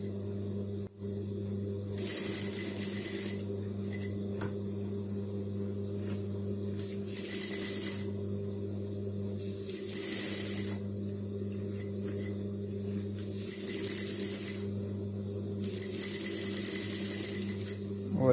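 A sewing machine stitches a high-neck blouse in repeated bursts of rapid whirring, about five runs separated by short pauses, close and clear over a steady background hum.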